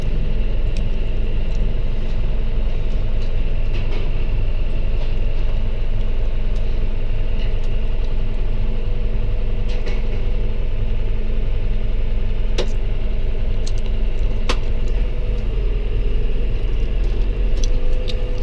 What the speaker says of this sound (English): right now the baler's going by